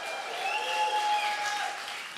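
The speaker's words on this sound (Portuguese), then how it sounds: "Faz mais um, pode aplaudir." Congregation in a church applauding together, a steady dense wash of clapping that holds evenly for a couple of seconds and eases slightly at the end, with no talk over it.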